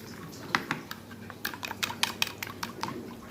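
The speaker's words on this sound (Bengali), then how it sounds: "এবার এই ব্যাটারটাকে একটু ভালো করে ফাটিয়ে নেবো, পুরো মিশিয়ে নেবো মশলার সাথে দইটাকে বেশ সুন্দর করে।" Quick metallic clinks and taps of a utensil against a bowl while whisking yogurt batter with spices, a rapid irregular rhythm of sharp strikes heard up close with no talk.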